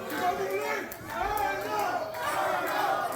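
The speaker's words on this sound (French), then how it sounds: "Frank Evans a très clairement entendu la foule cette fois-là" A wrestling crowd at a BCW event, chattering and cheering in a steady mass, with a commentator talking over it.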